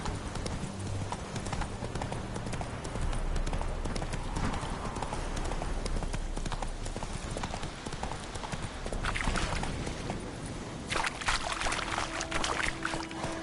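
A horse in The Witcher 3 runs with a steady clip-clop of hooves at a brisk, rhythmic pace, mid-distance and fairly constant, with a louder burst near the end and no speech.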